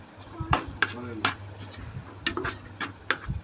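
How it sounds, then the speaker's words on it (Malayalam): Chili powder being stirred into a fried chicken curry in a pan, heard as sparse scraping and clinking of a utensil against the pan with a low steady hum underneath. "മുളകും പൊടി ഇട്ട് കൊടുത്തതിന് ശേഷം നന്നായി ഇളക്കിയെടുക്കണം"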